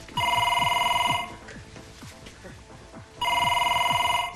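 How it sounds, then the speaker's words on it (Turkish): An old landline telephone bell rings loudly in two bursts, each about a second long, with a gap between them. Voices and a busy film-scene background continue underneath throughout. "Telefon çalıyor."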